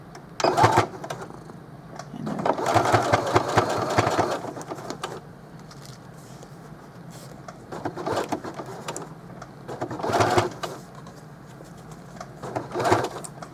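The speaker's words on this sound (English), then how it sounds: "So all I'm going to do is start with a little edge stitch." A sewing machine runs in several bursts of rapid stitching while edge stitching a pocket onto a placemat pouch, with pauses of quieter mechanical noise between runs.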